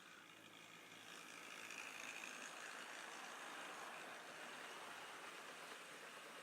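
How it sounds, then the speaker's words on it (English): A steam engine train pulls out of a station, giving a steady broadband rumble and hiss that stays fairly loud and constant, with no talk over it. "Then the engine puffed out of the station."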